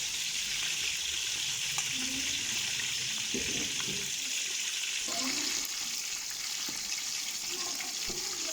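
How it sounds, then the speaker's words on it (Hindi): Chicken legs frying in hot ghee give a steady, close sizzle across the whole stretch, with faint clinks and scraping as the pieces are turned. "We will fry our legs until their color change into light brown, not dark brown, only light brown."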